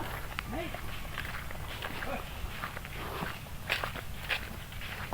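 Cattle walk into their pen, with a steady shuffle of hooves and footsteps close by, while someone talks over the movement throughout.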